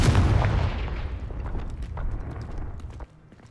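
A Confringo explosive spell going off in Hogwarts Legacy, a loud booming blast with a heavy low impact that fades into crackling debris and scattered smaller pops.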